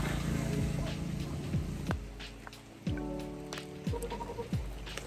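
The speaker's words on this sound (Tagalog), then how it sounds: "Sobrang lakas ng ulan ngayon, ano?" Heavy rain pours down outdoors in a steady, dense hiss of drops striking surfaces, with a few brief low thumps and knocks rising over the continuous downpour.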